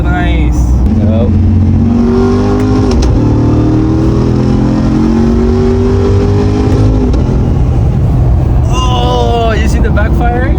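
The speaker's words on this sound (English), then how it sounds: "you see the backfiring?" A Ram 1500 TRX pickup truck revs hard with a loud, continuous exhaust roar, rising and falling engine tones, and sharp popping backfires from the exhaust. The sound stays close and strong throughout.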